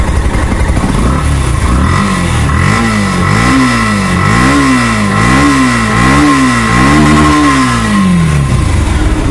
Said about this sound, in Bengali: ইঞ্জিন সাউন্ড দেখেন